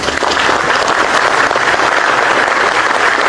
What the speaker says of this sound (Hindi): थोड़ी देर तक तालियां बजाएं।